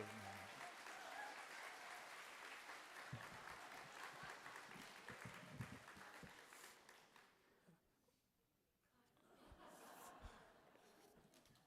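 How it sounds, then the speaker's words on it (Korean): Church congregation applauding at a Sunday worship service to welcome a pastor to the pulpit, steady broad clapping that thins out, dips briefly near the end, then swells again. "목사님 나오실 때 크게 환호해 주시고 우리 박수로 인사드리겠습니다"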